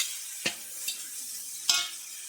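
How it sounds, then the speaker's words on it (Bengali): Sugar stirred into spices and tomato in a pan, with a few separate scrapes of the spoon over a soft, steady sizzle, nearby and moderately quiet. "একটু চিনি দিয়ে নাড়াচাড়া করে নেবে ভালো করে"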